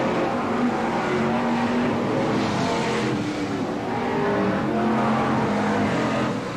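BriSCA Formula 1 stock cars race at Skegness, a steady loud roar of several engines droning together with rising and falling pitch as the pack circulates, no talk over it.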